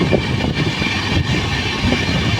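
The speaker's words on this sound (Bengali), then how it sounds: "দিক থেকে ছুটে আসছে ট্রেন নাম্বার 18401 পুরী থেকে শালিমার শ্রী জগন্নাথ এক্সপ্রেস" Train 18401, the Puri–Shalimar Sri Jagannath Express, approaches with a loud, continuous rumble and rhythmic rolling thuds of wheels on rail.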